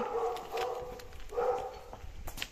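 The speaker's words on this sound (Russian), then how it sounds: "Что-то все собаки сегодня возбужденные." Several excited dogs bark outdoors in short, fairly distant bursts, with a couple of yips standing out among them.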